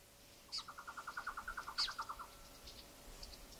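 Orange-bellied parrots call at a seed feeding tray, a faint, fast run of about fifteen evenly spaced chattering notes with a few higher, sharper chirps mixed in, followed by quiet.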